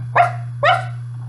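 A puppy gives two sharp, close barks about half a second apart, over a steady low electrical hum and nothing else.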